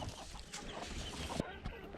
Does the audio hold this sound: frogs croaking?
no